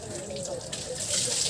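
Water runs and splashes steadily into the exhaust of a Honda Click 125 motorcycle, like a stream from a hose, with a faint voice in the background.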